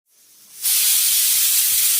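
A pressure cooker cooking millet pulao whistles, starting as a soft hiss, then rising into a loud, continuous rush of escaping steam.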